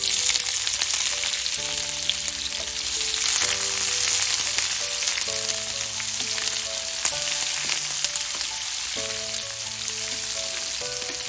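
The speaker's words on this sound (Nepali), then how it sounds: "अब यति बेला मैले राखेँ यसमा एउटा मिडियम साइजको प्याज।" Onion, fenugreek and cumin fry in hot oil, giving a steady, close sizzling hiss throughout, with faint background tones running under it.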